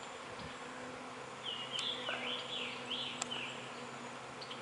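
Feral honeybee swarm in flight outdoors under an open sky, a steady diffuse buzzing with a few louder passes as bees fly near, continuous through the stretch with no talking.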